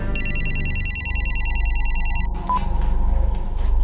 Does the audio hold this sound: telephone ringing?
yes